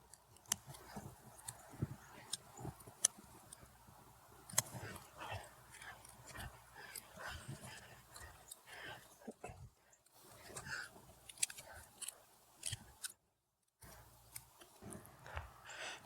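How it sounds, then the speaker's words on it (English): Hand pruners snip shrub branches during Japanese niwaki-style cloud pruning of a topiary, giving irregular crisp clicks and cuts spread across the clip, close and fairly quiet, with rustling between snips. "So as you're cutting, always make sure you turn it to get the best cut."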